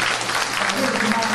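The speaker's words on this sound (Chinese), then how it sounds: "我想我们给王俊元院长一个热烈掌声" Warm applause from the audience for an academy dean at an art exhibition and book launch, a short, even burst of clapping with a faint murmur beneath it.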